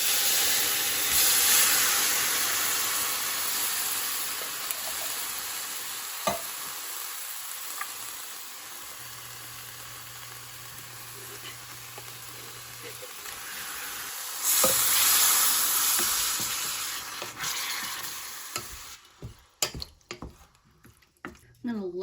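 Tomatoes going into a hot pan for a pasta and meatball sauce, producing a broad sizzling hiss that swells, dips and rises again, with soft stirring knocks, before fading out into quieter bubbling and brief speech at the end.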